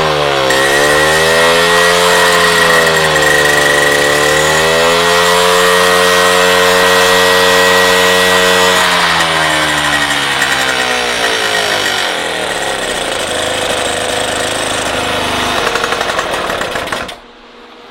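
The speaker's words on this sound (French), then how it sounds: "On va régler le gicleur variable jusqu'à ce que le régime moteur soit optimal." A Solex 3800 moped engine runs steadily and loudly up close while its variable jet is adjusted, its buzzing pitch dipping, rising and shifting before cutting out abruptly near the end.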